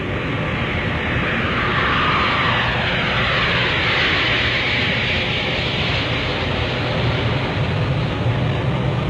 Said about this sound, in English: When stabilized, press toga and the aircraft accelerates.